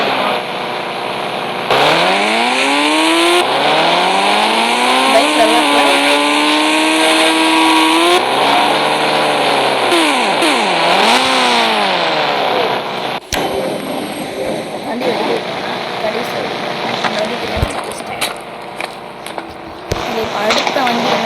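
An R15 motorcycle engine in the mobile game Indian Bike Driving 3D revs up and down loudly and continuously, its pitch climbing, dipping and rising again before settling into a steady drone.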